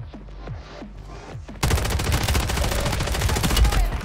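Rapid SMG fire in Call of Duty: Warzone 2.0 erupts after a few scattered sharp shots, becoming a loud, dense continuous burst that runs to the end.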